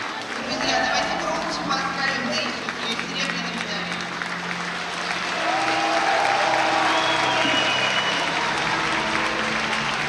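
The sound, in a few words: applause for judo silver medallist at Grand Slam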